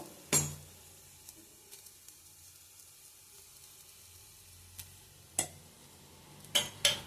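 Okra stir-fry with coconut is stirred in a pan, with a faint low sizzle under a handful of sharp spoon clinks and scrapes spaced irregularly through the quiet, and nobody talking.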